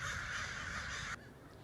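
Crows in a Central Coast town give harsh, raspy caws, close and steady for a moment before cutting off, with no voices present.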